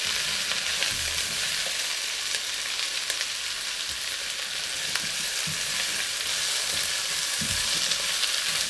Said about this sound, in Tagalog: nilagay na po natin ang asparagus. Stir lang po natin